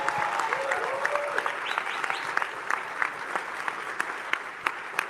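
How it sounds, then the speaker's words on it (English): An audience claps and cheers, with scattered sharp claps standing out and a few whistles early on, fading slightly toward the end. "Yeah, they clap for that shit."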